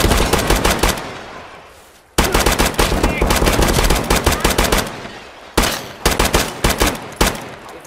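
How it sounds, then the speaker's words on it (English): Gunfire in the shooter game Escape from Tarkov: loud, close automatic bursts of rapid shots in three long volleys separated by brief pauses, with faint voices underneath. "You're shooting through the fence."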